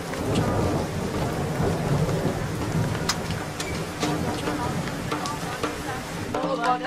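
A thunderstorm with heavy rain: a dense, constant hiss of falling rain with several sharp cracks and rumbles of thunder, loud and close, with faint voices underneath.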